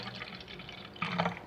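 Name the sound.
pouring a little water out of homemade slime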